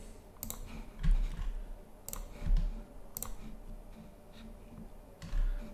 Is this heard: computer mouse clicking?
yes